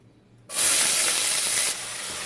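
Onion tipped into two tablespoons of hot olive oil in a pot for tomato basil soup bursts into a loud, close sizzling hiss after a quiet start, easing to a lower steady fry.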